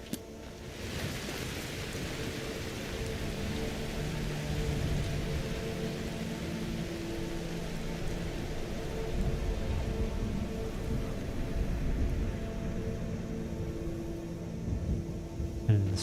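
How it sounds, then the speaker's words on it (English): Steady heavy rain pours through a thunderstorm in the Skyrim video game, a dense continuous hiss layered over low rolling thunder rumbles that last the whole stretch without any voices. "And the storm has passed."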